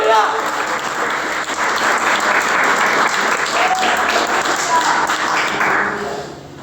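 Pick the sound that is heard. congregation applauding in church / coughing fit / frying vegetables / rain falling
congregation applauding in church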